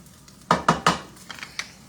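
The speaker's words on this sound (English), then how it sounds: "Let me stir this right quick" A spoon stirs curry coconut shrimp in a pan, three quick scraping clinks followed by a few softer taps, close and brief with no talk.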